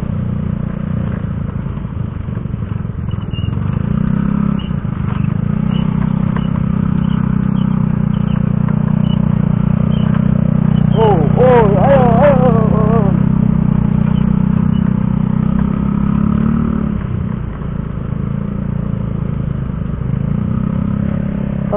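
A motorcycle, a Ninja, climbing a limestone hill, its engine droning loud and close with a low steady rumble, rising and falling as it labours uphill, with gravel scraping and clatter along the way.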